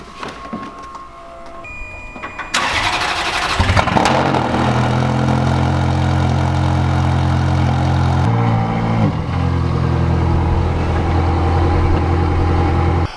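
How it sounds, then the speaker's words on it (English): A 2007 Ferrari F430 with a Fab Speed exhaust cold-starting: a whirring starter and electrical whine, then the engine catches with a loud bark and settles into a deep, steady, high idle, close up with no speech. "Cold startup on a 2007 Ferrari F430 with a Fab Speed exhaust."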